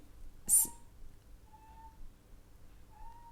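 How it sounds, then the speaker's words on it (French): A soft, brief cat chirp, then a couple of faint, thin mewing sounds in a quiet room. "il y a mon chat qui fait des petits bruits"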